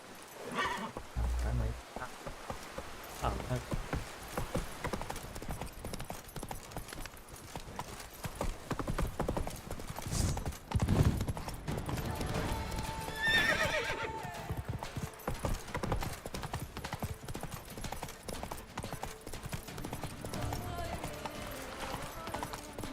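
A horse in The Witcher 3: Wild Hunt gallops with rapid steady clip-clop hoofbeats throughout, whinnying and neighing at moments, close and clear, while people talk over it.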